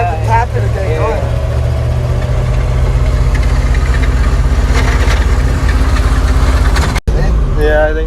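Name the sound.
old 3-ton grain/gravel truck engine running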